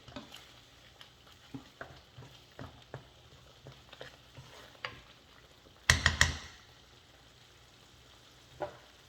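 Palak spinach frying in a pan gives soft scattered ticks and light scrapes of stirring over a faint sizzle, with a brief, louder clatter of the spoon against the pan partway through, close and quiet, no talking.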